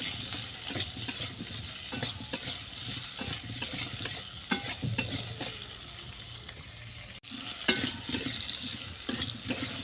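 Kohlrabi and potato pieces browning in hot oil, a continuous sizzle with frequent clatters and scrapes of a spatula turning them, plus a brief watery trickle near the end.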